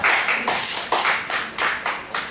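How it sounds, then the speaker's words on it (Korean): A small audience claps in a few short rhythmic bursts at a Korean church prayer-training class, the claps close and clear with no talk over them. "박수!"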